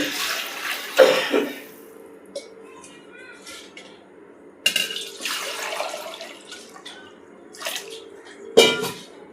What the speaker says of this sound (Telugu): ఈ గిన్నెతో గిన్నెన్నర వాటర్ అనేది పోస్తున్నాను